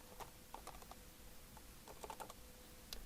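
Quick bursts of keystrokes on a computer keyboard as a short file name is typed, clustered taps with brief pauses between, close and fairly quiet with no talking.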